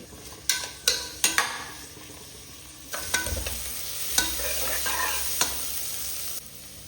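Onions and curry leaves hit hot ghee with a sharp sizzle, followed by scraping stirs and a continuous frying crackle close by.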